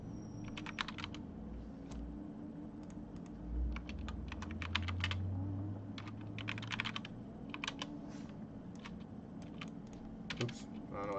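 Keyboard typing during a BeamNG game stream, coming in irregular bursts of quick clicks over a steady low background hum.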